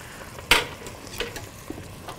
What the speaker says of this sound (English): The biggest whisk in the house for the littlest amount of dressing